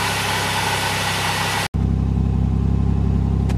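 An old Buick engine with an exhaust leak runs at a steady idle, loud and close, with a rough pulsing exhaust throb after a brief cutoff.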